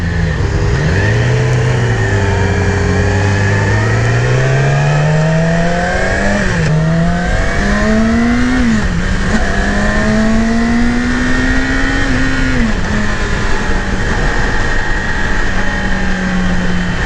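A 2018 Yamaha YZF-R6 sport motorcycle engine revs continuously while riding, pitch rising steadily with a few quick shifts, loud and close with constant wind noise.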